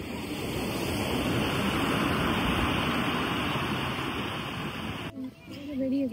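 Ocean surf washes steadily onto a beach, a close, loud roar of breaking waves with wind buffeting the microphone, cutting off abruptly near the end as a brief snatch of other sound takes over.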